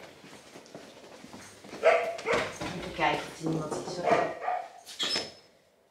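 Dogs bark and whimper at an Amsterdam animal ambulance station, fairly close but partly buried under steady conversation.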